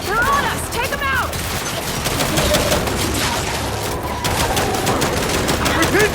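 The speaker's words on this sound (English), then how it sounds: "We can't deal with those turrets!" Rapid turret gunfire from the Gears of War 5 campaign rattles out in dense, continuous bursts that fill the whole stretch at close range, with a few sharp whistling or ricochet-like sweeps cutting through.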